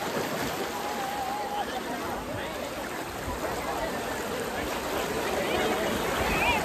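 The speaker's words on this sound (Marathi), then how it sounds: "बघा पाण्याचा फोर्स पण खूप जास्त आहे" A strong monsoon river near Mumbai rushes in a steady, full roar of flowing water that lasts throughout, with faint voices blending into the noise.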